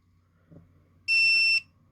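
A single short electronic beep, clear and steady for about half a second, preceded by a faint click in an otherwise quiet room.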